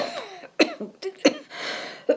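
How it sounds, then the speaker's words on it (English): A person coughing in a few sharp, separate bursts with brief throat-clearing noises between them, close and fairly quiet, with no talking. "Yeah, I'm still coughing a little bit, but nothing much."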